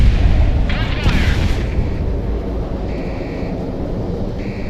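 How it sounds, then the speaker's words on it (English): Gunfire and explosive booms in a flight combat video game, with a dense, loud rumble of continuous weapon fire under radio chatter, a louder burst near the start and faint electronic warning tones later. "Gunfire."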